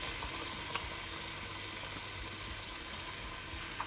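Potatoes and vegetables fry in olive oil for minestrone soup, a faint, continuous hissing sizzle with a couple of small pops and no talking.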